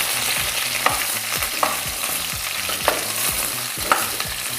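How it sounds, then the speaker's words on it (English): Garlic being stirred as it fries in a pan, with a steady broadband sizzle and repeated scraping strokes of the utensil at a roughly regular rhythm, close and alone. "Just stir this a little."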